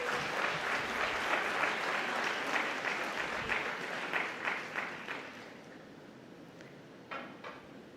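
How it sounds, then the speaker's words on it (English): An audience claps for a felicitation at the ICSI 27th Conference, with dense, fairly loud applause for about five seconds that thins out to a few scattered claps at the end. "Can we have a huge round of applause?"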